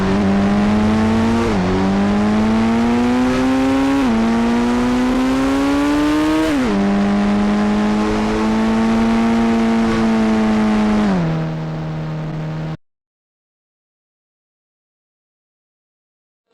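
A Lamborghini's engine in the video game Indian Bike Driving 3D revs hard and climbs through several gear changes, each shift dropping the pitch before it rises again. The sustained roar runs for about twelve seconds and then cuts to silence.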